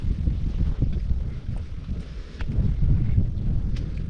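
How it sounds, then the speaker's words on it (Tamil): Strong wind gusting steadily against the microphone on a steep mountain climb with narrow steps up to Thalaimalai hill temple, a continuous low rumbling buffet with a few brief rises, no voices. "காற்று வேறு பயங்கரம்"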